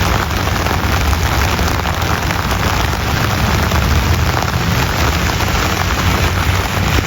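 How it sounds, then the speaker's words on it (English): Heavy rain pours down steadily, a dense, unbroken hiss of water close by with no pauses. "it is pouring down rain right now"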